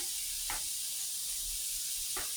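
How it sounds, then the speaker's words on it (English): Shrimp sauté in a skillet, giving a quiet, steady sizzling hiss throughout, broken by two soft bumps or stirs. "We have our shrimp in the skillet sauteing."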